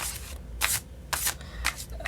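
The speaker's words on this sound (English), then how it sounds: "I love these cards and I cannot shuffle them at all." Large oracle cards are shuffled by hand in four quick, crisp riffling bursts separated by short pauses, close and clear with no talking.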